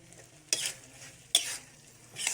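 Cuttlefish fries in a little oil in a pan, with three bursts of loud sizzling as the pieces are stirred and tossed, close and without voices.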